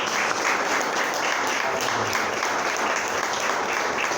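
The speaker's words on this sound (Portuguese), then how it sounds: "as palmas louvem ao Senhor" A church congregation applauds in praise of the Lord, sustained, dense clapping filling the room at steady loudness from start to finish.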